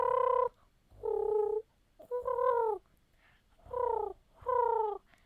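A person imitates a pigeon by rolling the back of the throat, giving five throaty cooing bursts in an uneven rhythm with short pauses between them, close and moderately loud.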